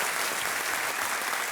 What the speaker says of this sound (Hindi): तालियों के साथ इनका स्वागत किया जाए।